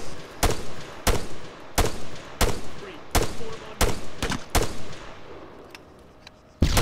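Suppressive gunfire in the video game ArmA 3: roughly nine loud, evenly spaced shots ring out at about half-second intervals with short echoing tails, followed by a quiet gap and one final shot.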